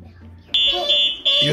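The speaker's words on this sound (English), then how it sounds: "Oh, I heard something beep. It went off." Electronic beeping from a metal detector in a pretend airport security checkpoint, a few sharp sustained tones following a thump, close and loud.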